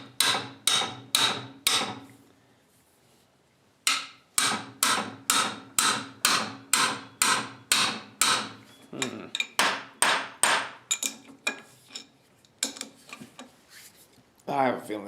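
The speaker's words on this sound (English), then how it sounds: "Don't worry, I only use the hammer on my good wrenches." A hammer repeatedly strikes a steel wrench on a stuck nut or bolt during restoration of a Little Giant power hammer, sharp ringing metallic blows in quick bursts, close and loud, with a brief pause between runs.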